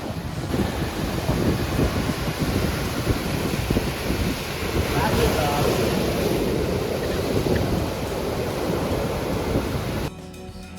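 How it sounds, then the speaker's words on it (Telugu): Ocean waves at Pondicherry's Rock Beach wash and break steadily on the shore, with loud wind buffeting the microphone throughout and a brief change in tone near the end. "బీచ్ వ్యూ అయితే ఇలా ఉంది."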